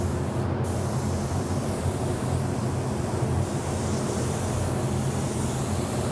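A spray gun laying down metallic white coarse paint, giving a steady, continuous hiss that holds loud and close throughout with barely any change.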